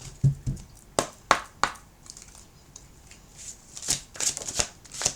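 A Moon Oracle deck of cards is shuffled by hand in a quiet room: a series of soft, irregular riffles and taps, some closer and sharper, scattered across several seconds.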